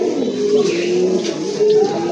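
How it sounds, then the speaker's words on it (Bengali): Large red checker pigeons coo in low, throaty, drawn-out calls that repeat close by, with the resonant murmur running almost continuously and little else around them. "আরেক জোড়া কোয়ালিটি ফুল কবুতর, রেড চেকার কবুতর, বিশাল সাইজের কবুতর"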